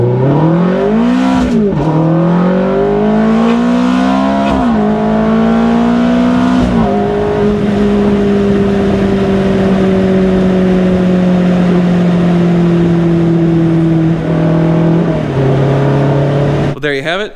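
A 2007 Ferrari F430 Spider engine revving hard and close, the pitch swooping up and down through several rises before settling into a long high steady wail that drops near the end.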